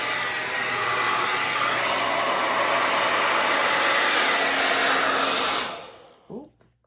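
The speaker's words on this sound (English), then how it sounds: "I'm going to be holding the hair dryer" Loud, steady rush of a hair dryer aimed at an acrylic and resin pour, droning evenly for several seconds before being switched off and winding down, leaving a faint knock and quiet.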